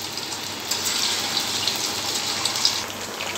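Paneer cubes frying over high heat in a hot kadhai, giving a steady, hissing sizzle that stays even for the whole stretch, close and fairly loud, with no voices.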